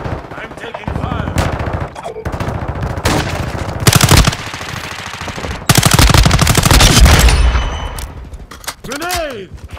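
Dense, loud automatic gunfire and explosions from a Call of Duty: Modern Warfare II multiplayer match, with rapid bursts, heavy blasts and a swooping effect near the end, mixed with in-game voice callouts.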